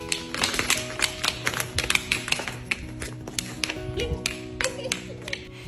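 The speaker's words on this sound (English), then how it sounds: "soon he was knocking on the wooden floor and making all kinds of funny noises" Small hooves of a dwarf stallion fitted with little shoes knock on a wooden floor in quick, uneven clusters of sharp taps, close and fairly loud.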